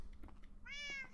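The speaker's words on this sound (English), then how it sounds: "Yep, I hear you, cat." A cat meows in the Minecraft video game, a single drawn-out game-sound meow over a faint background hum, with no talking.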